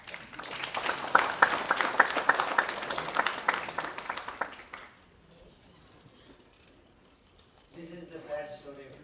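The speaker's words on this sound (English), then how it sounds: "Please do clap." An audience at a talk on millets claps for about five seconds, a lively patter of many hands, before it stops and a voice speaks quietly at the end.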